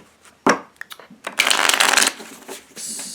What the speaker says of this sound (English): I just got to shuffle.